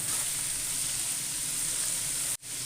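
Julienned ginger and sliced green chillies frying in a pan, a steady, loud hiss of sizzling oil that cuts off sharply near the end.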